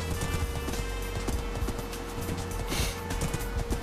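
A horse gallops across flat open ground in Minecraft, its hooves giving quick, steady clip-clop beats in the foreground with rain falling around it.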